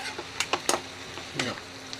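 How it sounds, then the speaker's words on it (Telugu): Fenugreek leaves frying in a pan and being stirred, a soft background sizzle broken by a few quick scraping and rustling bursts. "ఇగో మెంతికూర బాగా మనం ఆకుని బాగా క్లీన్ చేసుకుని వేస్తున్నాను."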